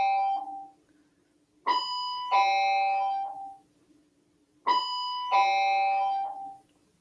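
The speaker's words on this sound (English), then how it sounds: "Sorry about the bell there." A doorbell rings twice, each press a clear ding-dong chime that rings out and fades, with a short quiet gap between the two. The chimes sound alone, with no talking.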